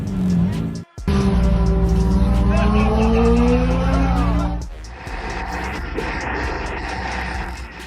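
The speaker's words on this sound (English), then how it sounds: "A Lamborghini Aventador engine burst and exploded after excessive revving at a supercar meet" A Lamborghini Aventador at a supercar meet, its engine revving hard with a loud rising whine that cuts off abruptly, followed by rougher, noisier crowd-filled sound.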